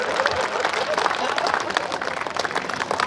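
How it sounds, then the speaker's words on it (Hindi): Audience applause at a kavi sammelan (Hindi poetry gathering) held at a police line ground in Palamau, Jharkhand: a steady, dense wash of many hands clapping across the whole stretch, fairly loud and continuous, with crowd murmur mixed in. "महिला ने जो जवाब दिया उस पर आगे से लेकर पीछे तक सबकी तालियां चाहिए।"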